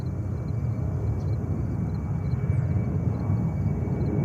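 A JetBlue airliner rolls for takeoff on runway 13 right at JFK, a steady, loud low engine roar that holds constant throughout without any voices.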